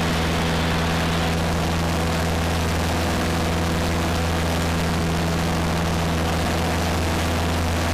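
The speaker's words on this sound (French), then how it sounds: "T'as fait ton premier décollage." Small propeller airplane engine at takeoff power, a loud, steady droning roar with a strong low hum and broad rushing noise filling the whole stretch, heard from inside the cabin.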